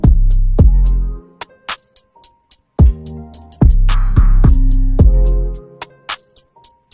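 A produced hip-hop beat plays loud and alone, with punchy kicks and deep sub-bass hits, crisp hi-hats ticking throughout, and sustained melodic synth layers in a steady looping rhythm.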